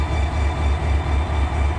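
A Norfolk Southern freight train rolls past at a crossing, a loud, close, continuous rumble of wagons with a low rhythmic thump and no talking.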